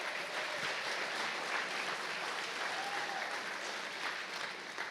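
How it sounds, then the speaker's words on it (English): Conference crowd gives a round of applause for a church, a thick, even roar of clapping from many people, loud and continuous from start to finish with no voices standing out. "Can we give iChurch a round of applause?"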